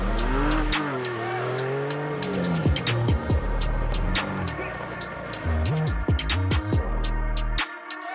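2025 Ford Ranger Raptor V6 pickup truck driving, its engine loud and close, rising and falling through revs with sharp gear-change jumps and brief tire noise.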